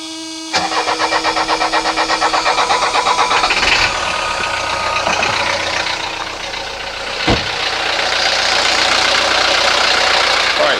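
Diesel engine of a 1983 Mercedes 240D with a faulty glow plug relay, warmed by a block heater, cranks loudly with rapid rhythmic churning, then catches and settles into a loud, rough, knocking idle, close up.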